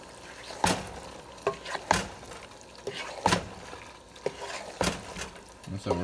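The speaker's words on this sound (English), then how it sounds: "But we're going to give that a stir." Chili with a spice mixture is stirred in a pot, the spoon making repeated wet scraping knocks roughly every second over a quiet simmering background.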